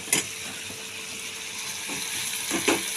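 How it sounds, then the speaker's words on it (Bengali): Spice paste with ground cumin fried together in a pan: a soft, steady sizzle and crackle with a few brief stirring scrapes and clinks, fairly close and even throughout. "আমি একসাথে মশলাটাকে ভেজে নিচ্ছি।"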